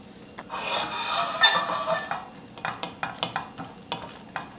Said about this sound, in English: You have your onions that have been diced. You place them in the pan.